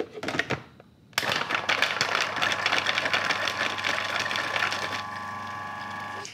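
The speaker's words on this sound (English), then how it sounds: "I'm just going to bung those in the food processor first and run the motor so that the garlic definitely gets nicely chopped up first" A food processor motor chops garlic cloves, starting after a short clatter and pause into a steady loud whirring buzz with rattling, continuing alone and easing slightly near the end.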